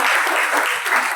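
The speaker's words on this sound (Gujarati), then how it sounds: "બેન માટે તાળી પાડો" A seminar audience applauds a 17-year-old girl who has just stood up, broadband clapping that fills the whole second at an even, steady loudness with no voices over it.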